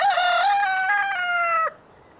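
A rooster gives one loud, close cock-a-doodle-doo at a quiet rural home, the crow held steady for well over a second before cutting off abruptly into near silence.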